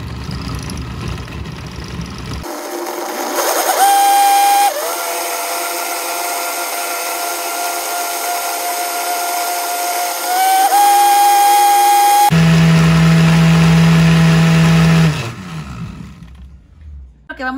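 A blender grinds pineapple, parsley and strawberry into juice, a loud close whining roar that starts abruptly, holds a steady pitch, rises as the motor speeds up, then winds down and stops.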